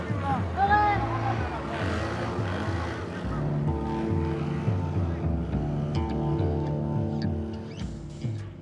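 A motorized dugout canoe pulls away on a river in Papua New Guinea, its outboard engine droning steadily and close, rising and settling in pitch as it gets under way, with faint voices and water noise around it.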